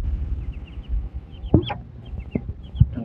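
Chickens cluck in short bursts over a low background rumble, a few sharp calls standing out near the end.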